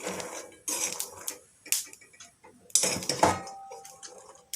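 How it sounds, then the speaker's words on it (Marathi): Peanuts dry-roasting in a pan for Makar Sankranti til ladoos, with stirring heard as intermittent scraping and clinking bursts of utensil against metal, close and moderately loud, separated by brief quieter gaps. "सर्वप्रथम शेंगदाणे खरपूस भाजून घेणार आहे शेंगदाणे चांगले लाल होईपर्यंत भाजून घ्यायचे"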